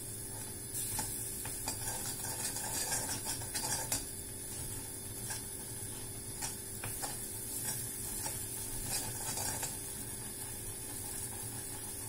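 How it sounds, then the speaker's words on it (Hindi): Khoa roasting in a pan while being stirred: a low, steady sizzle with scattered light scrapes and ticks from the stirring, quiet throughout and without speech. "खोए को हम थोड़ा सा भून लेंगे, लिक्विड तो हो ही गया ये दूध से। 2 मिनट इसको भून के"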